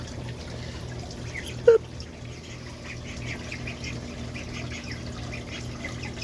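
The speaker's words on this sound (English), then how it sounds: "Beautiful, beautiful little ducks." Cayuga ducks give one short, sharp squawk partway through, standing out over a steady low hum and a faint trickling of water; the rest is quiet background.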